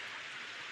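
Steady rain falls in a brief wash of dense, even hiss, with no voices heard.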